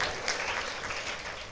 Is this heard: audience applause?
yes